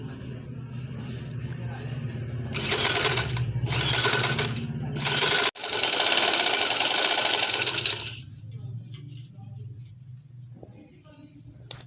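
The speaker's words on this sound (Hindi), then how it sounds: "अब ये नीचे तक हम सीधी सिलाई लगा देंगे।" Sewing machine running straight stitches on an angrakha garment, heard as several loud bursts of rapid mechanical whirring separated by short pauses, then one longer run, close by, with a voice talking during the quieter stretches.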